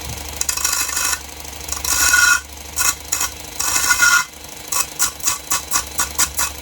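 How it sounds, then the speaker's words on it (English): David Union Modellers D600 mini belt sander grinding an edge, a loud steady rasping hum broken into repeated short bursts as the workpiece is pressed to the belt and lifted away. "And I'm going to go in and just sand an edge."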